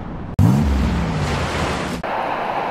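Chest-high ocean surf washes and rumbles near the shore in a broad, steady roar with wind buffeting the microphone, cut by two abrupt breaks.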